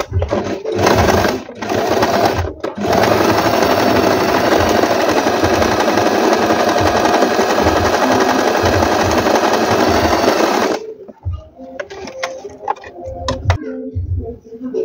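A Stitchmaster table top sewing machine runs a stitch E pattern, a loud, rapid mechanical chatter lasting about ten seconds after a few short starts, then stopping into quieter clicks and handling noises.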